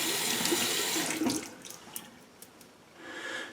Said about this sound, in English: I'm just going to give a quick rinse here to the brush